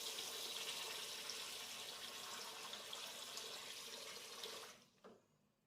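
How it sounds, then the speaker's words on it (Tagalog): Tap water pours steadily into a container of sticky rice to soak it, a bright close rushing splash that runs for several seconds and then cuts off abruptly. "lalagyan ko lang siya ng tubig"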